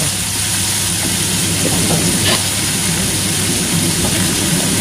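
String beans (sitaw) sautéing in a hot pan give a steady, loud, broad hiss that holds evenly throughout, with no voices.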